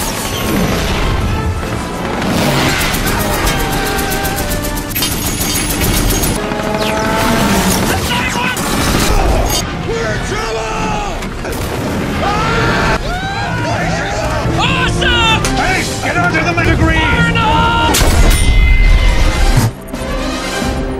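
Loud, dense barrage from a military aircraft's weapon system firing in a flight combat video game, with continuous blasts, crashes and rumbling explosions layered over music or engine tones, held at high volume for the whole stretch.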